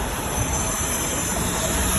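A metro rail train passes close by with a loud, steady rumble and rail noise that holds for the full two seconds, with no voices.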